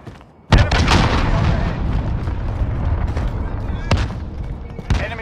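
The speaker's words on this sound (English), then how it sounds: "Enemy cruise missile incoming!" A cruise missile explosion in Call of Duty: Modern Warfare during a team deathmatch hits as a loud sudden boom followed by a long rumbling roar, with a few sharper cracks of gunfire afterward.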